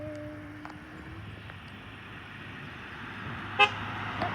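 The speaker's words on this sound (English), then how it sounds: "Honk for doctors." A car horn gives a couple of brief toots on a roadside, faint and distant over low traffic rumble, followed by a sharp short burst near the end.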